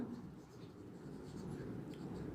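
Steady, faint scratching of writing on a board during an accounts class, soft and continuous throughout the short stretch.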